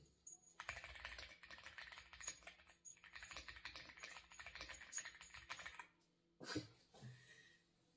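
Clacking keystrokes on a wireless computer keyboard come in fast, close bursts with brief pauses between runs, then a few final taps.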